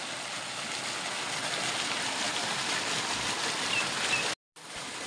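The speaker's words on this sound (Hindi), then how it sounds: "तो इतना ये नहर का पानी जाएगा खेत में।" Canal water rushing steadily into farm fields in a Uttarakhand village, a loud continuous broadband flow that drops out briefly near the end before resuming.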